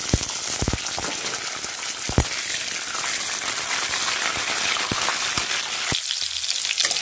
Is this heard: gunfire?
no